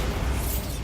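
A Bombarda blasting spell explodes in Hogwarts Legacy, a single short, loud, rumbling blast that fills the moment and fades quickly.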